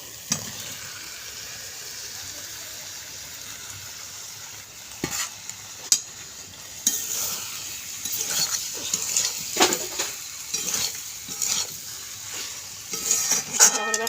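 Fried vegetables for a five-vegetable curry are stirred into cooked spice masala in a pan. A steady low sizzle runs throughout, and from about the middle, louder bursts of spoon scraping and stirring start and stop irregularly.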